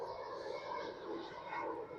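A steady, broad roar of an IndiGo jet airplane passing overhead near Kochi airport, fairly distant and even in loudness throughout, with no talking.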